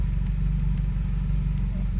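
A 2017 Subaru engine idling with a possible coolant, boost or vacuum leak or misfire, a steady close low rumble with even rapid pulsing and a few faint ticks.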